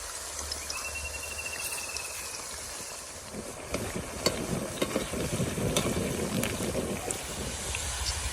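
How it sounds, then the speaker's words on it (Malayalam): Papaya fries cut like French fries frying in hot oil, a steady broadband sizzle that grows louder and denser after a few seconds, with faint scattered crackles and pops, alone without talk. "നല്ലോടെ എണ്ണ തിളച്ച് വരുമ്പോൾ വേണം നമ്മുടെ ഈ കർമൂസ് ഇട്ട് കൊടുക്കാൻ വേണ്ടിയിട്ട് അപ്പോൾ പെട്ടെന്ന് തന്നെ ഫ്രൈ ആയിട്ട് കിട്ടും"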